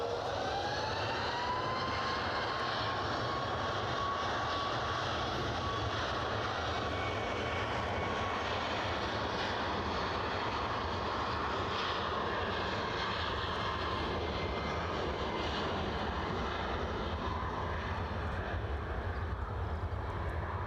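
A Milan-bound airliner taxis out at Edinburgh Airport, its jet engines a steady, distant whine and rumble with a faint rising tone early on, sustained evenly for about twenty seconds.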